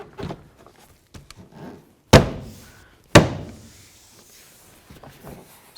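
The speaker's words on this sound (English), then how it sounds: "we're going to take our door panel and slide it back on" Two sharp, loud thunks a second apart as a plastic door panel is pressed back onto a 2003-2009 Toyota 4Runner door, with quieter rustling and handling noises before and after.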